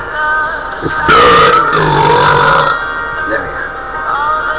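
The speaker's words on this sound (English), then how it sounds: "I'm just gonna burp random words that come out on it." A person burps out random words, giving a long, loud, close belching voice that rises and falls in pitch like garbled speech for about two seconds, with quieter throat sounds before and after.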